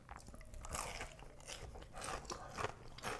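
Crisp, repeated crunching bites into Popeyes fried chicken wings, loud and close, with irregular bursts of crackling breading and chewing in between.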